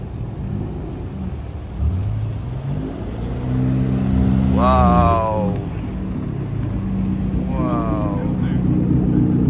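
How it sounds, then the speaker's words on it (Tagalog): An old-school car approaches and revs its engine on a Japanese street, a rising mid-range growl that swells with two sharp climbing revs, while an onlooker lets out brief impressed exclamations. "So may dumadating na old school na kotse."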